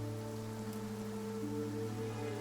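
Steady, even rain hiss in the Infinity Nikki game world, soft and continuous, with a low droning tone underneath and no voices.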